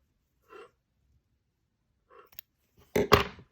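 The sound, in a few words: scissors cutting the yarn tail of a crochet piece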